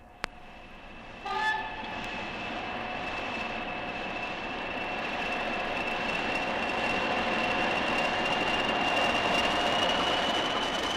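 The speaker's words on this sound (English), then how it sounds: "And so did the driver, Mr. McIver, who drove the train to Glasgow." A train rumbles steadily and grows louder over several seconds, with a brief horn-like tone near the start and a sustained whine throughout.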